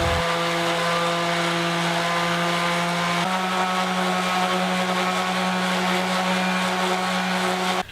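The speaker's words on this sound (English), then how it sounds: "I'll sand it down with the random orbit sander" Random orbit sander working a quilted maple guitar top, a steady loud motor whine with a pitch drop partway through, continuous and close with no talking.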